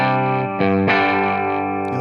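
Electric guitar with a bridge pickup played through a Tonex power-amp-only capture at a higher gain setting, giving slight breakup; sustained distorted chords ring out loud and close with a couple of restrikes, no talking.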